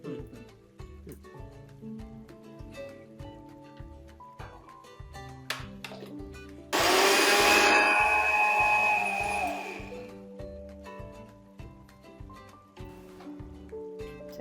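A kitchen mixer grinder grinds soaked rice in one loud burst of whirring of about three seconds, set among quieter rhythmic background sounds.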